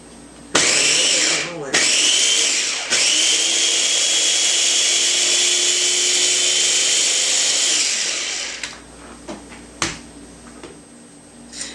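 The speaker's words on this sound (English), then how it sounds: "we're going to go ahead and puree a half pound of fresh strawberries in a mixer" A mixer pureeing half a pound of fresh strawberries: a loud, close motor whine runs in two short bursts and then one long steady stretch before it winds down, followed by a few clicks and knocks.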